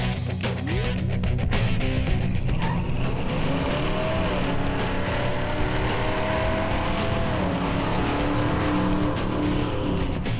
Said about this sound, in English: Pretty nice burnout. Yeah, burn the tires off all the way down.